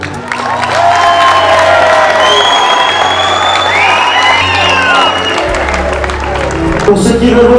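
Outdoor crowd at a turkey race applauding, cheering and whooping loudly to vote for a local Miss contestant, a dense sustained roar of clapping and shouts with a few voices standing out.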